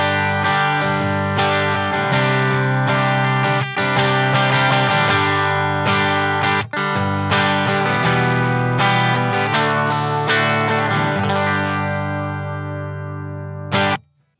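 Electric guitar played through a hybrid pedalboard in full Q mode, loud sustained distorted chords and notes ringing with effects, strummed in uneven phrases before a sudden final stop, without any talking.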